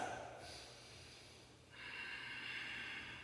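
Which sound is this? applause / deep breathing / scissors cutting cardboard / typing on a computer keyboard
deep breathing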